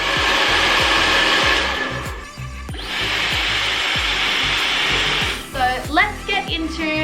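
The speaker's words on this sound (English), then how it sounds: "Now I have the Dyson on full speed and full heat." A Dyson Supersonic hair dryer runs at full speed and full heat, a loud steady whoosh broken by brief dips, with people talking over it toward the end.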